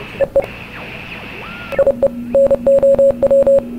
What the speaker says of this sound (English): That's definitely Morse code.